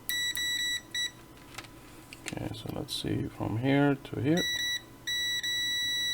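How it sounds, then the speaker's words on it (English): A multimeter in continuity mode gives sharp, high electronic beeps in short bursts and longer steady tones while testing retro computer parts, with someone talking between and over the beeps. "Let's see, beep mode."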